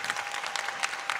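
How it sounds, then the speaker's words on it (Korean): A church congregation at a Sunday service claps in a short, dense burst of applause that sounds somewhat distant. "뜨거운 박수 보내주십시오."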